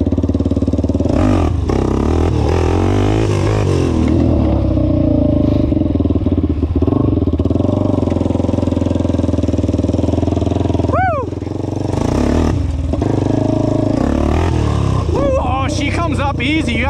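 A Honda 400ex ATV with its engine loud and close, droning and revving continuously while being ridden, with pitch rising and falling through gear changes. A voice speaks over the engine.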